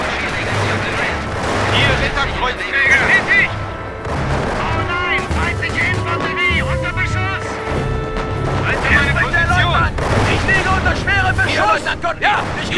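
Battle in the video game Company of Heroes, with steady gunfire and bursts of shooting mixed with distant blasts, under frequent shouted soldier voices.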